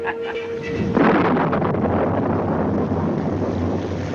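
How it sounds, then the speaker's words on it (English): Storm wind roars steadily and loudly from the first second onward, a broad rushing gust that holds through to the end with a low rumble underneath, after a brief quieter moment with a faint tone at the start. "The storm will soon be over."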